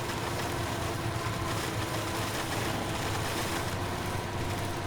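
A truck in SnowRunner runs under load in high gear, its engine a loud, unbroken roaring drone with no distinct pauses.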